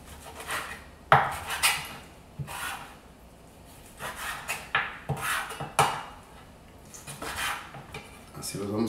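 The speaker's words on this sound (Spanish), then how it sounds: "vamos a empezar a picar la carne" A knife chops beef into small pieces on a wooden cutting board while making birria, giving irregular sharp knocks and scraping thuds with pauses between strokes.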